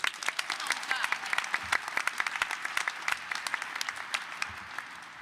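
A crowd applauds at a press announcement about the 2024 NFL Draft in Detroit, sustained dense clapping from many hands with sharp individual claps near the mic and some speech blending in.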